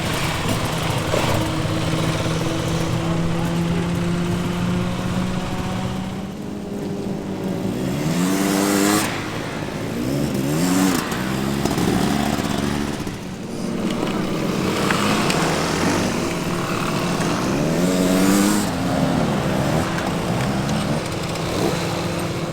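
An off-road motorcycle ridden during rider training on a low-traction surface, its engine droning steadily and rising and falling in pitch with repeated revving, loud and close throughout without talk.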